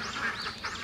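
Laying ducks quack on a duck farm, a dense overlapping chorus of nasal calls close by that swells and dips in quick bursts, with no speech.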